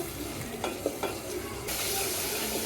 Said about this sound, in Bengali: এখন চিংড়ি মাছগুলো দিয়ে দিব চিংড়ি মাছগুলোকে ভালোভাবে কষিয়ে নেব